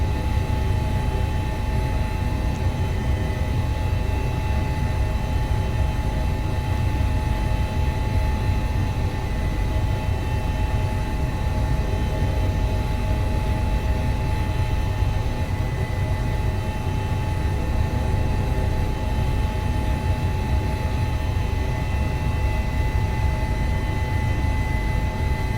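Steady, loud helicopter cabin drone with constant low rumble and tonal whine, flying at high altitude in thin air over the Alps near Chamonix and the Aosta Valley; no talking, continuous throughout.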